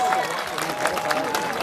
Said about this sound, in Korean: 감사의 박수 한번 더 부탁드리겠습니다